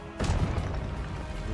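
A Stupefy spell cast in Hogwarts Legacy lands as a sudden broad whoosh and thud, then trails into a sustained rushing roar that fades slowly.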